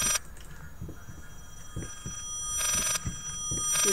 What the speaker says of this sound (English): This ringing is backwards,